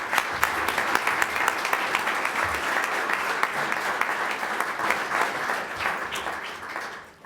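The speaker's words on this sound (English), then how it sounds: "Please, can we now give everybody a round of applause," An award ceremony crowd honoring medalists gives sustained applause, with many overlapping hand claps holding steady and strong before tapering off at the end.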